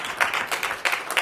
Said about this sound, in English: Thank you very much for clapping